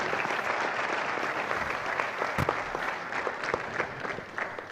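Audience at an academic festschrift ceremony claps for a finished speech, a sustained dense patter of many hands heard from a moderate distance, with a couple of sharper single claps near the middle.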